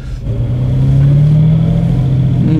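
A restored 1972 Jaguar E-Type V12 coupé with a 5.3-litre engine runs close by, a smooth, loud, steady hum that rises slightly in pitch as it revs, heard alone.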